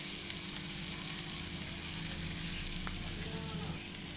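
Onions frying in a pan with salt and turmeric, a steady close sizzle with a faint stirring scrape, continuous without talk.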